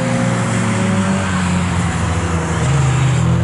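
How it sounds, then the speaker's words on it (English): A BMW race car in a 750MC Roadsports race at Snetterton circuit drives past with a steady, loud engine drone that holds throughout, a continuous close pass with no voices. "the Farrell Diver BMW setting stunning as it goes past"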